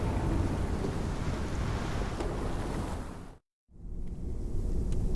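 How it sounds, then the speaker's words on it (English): Heavy rain pours in a dense, roaring wash during a raging storm that has lasted weeks, with deep rumbling beneath; the sound cuts out abruptly to near silence for a beat, then resumes at full strength. "4 weeks the storm had raged on"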